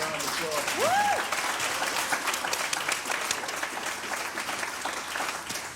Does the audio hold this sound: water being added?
no